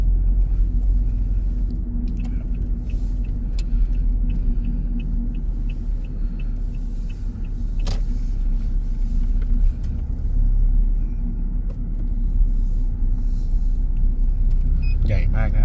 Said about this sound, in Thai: เดี๋ยว ผมให้เขา ขับ รถ เข้าไปส่งที่ตึกที่พักเลย